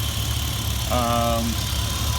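A Jeep TJ with a swapped-in LS engine and running headers idles quietly and steadily up close, a low even hum beneath a brief tonal chirp, with someone talking over it.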